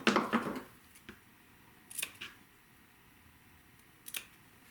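Scissors snip off the corner nubs of quilt fabric on hourglass units, giving a few crisp, close cuts spaced a second or two apart with a quiet rustle of fabric at the start.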